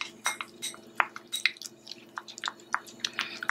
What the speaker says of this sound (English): I find it easier to just slowly blend the parsley juice in the Vaseline without melting it.